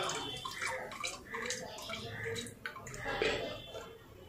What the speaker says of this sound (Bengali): ছেঁকে দেবো পুরো চালটা এরকম করে